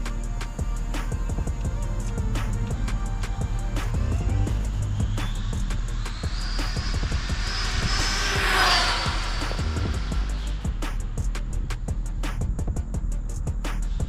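An Arrma TLR 6S RC car runs at full throttle outdoors, its high-pitched motor whine rising to a loud pass at close range around the middle, then fading away, with constant crackling from the ground surface.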